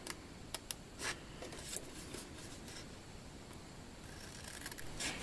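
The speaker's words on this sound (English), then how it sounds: "I'm just going to take my scissors and cut each one of these score marks up to that 2 3/4 inch score line" Scissors snipping score marks into cardstock for a Christmas box card, a few sharp clicks and short cutting snips over a quiet background hiss.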